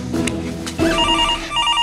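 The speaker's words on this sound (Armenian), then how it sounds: "Հերախոսն ա զանգում, ոնց չես լսում։" A telephone rings indoors, loud and close, its bell trilling in a bright repeated burst that breaks off and then sounds again.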